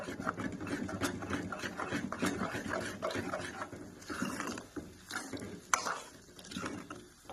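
Egg bhurji with chilli, salt and coriander is stirred and fried in a pan, a steady scraping and clattering with soft sizzling underneath, continuous for several seconds.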